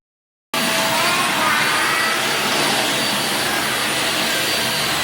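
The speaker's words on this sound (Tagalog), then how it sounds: "mahalaga talaga na meron tayong vacuum dito sa bahay" A household vacuum cleaner switches on abruptly and then runs at a steady, loud, close roar during home cleaning, with no talking over it.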